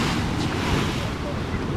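Stormy sea waves crashing in Yalta, heard as a dense, continuous roar of surf mixed with gusting wind buffeting the microphone, loud and close throughout.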